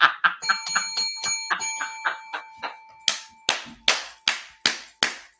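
Bright bell dings strike one after another in a steady run, first fast and ringing together, then slower single hits with clear decaying tails.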